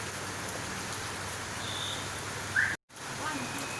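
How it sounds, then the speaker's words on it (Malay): Rain falling outdoors: an even, continuous hiss of drops with one sudden brief cutout near the end, and faint speech blended in. "Jadi detok benung hujan."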